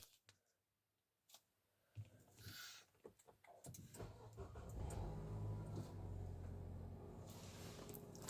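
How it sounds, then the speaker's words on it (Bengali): A Nissan X-Trail engine cranks and starts after smart key programming: near-silence with a few clicks, then a short starter whirr and the engine catching into a loud, steady idle. "গাড়ি স্টার্ট হলো"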